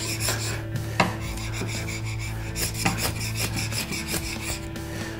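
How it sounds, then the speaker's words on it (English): A steel chisel scrapes excess glue off a solid surface worktop in short, close, rasping strokes with a steady rhythm and occasional sharper clicks, with no voices. "we can then scrape the excess off with a chisel"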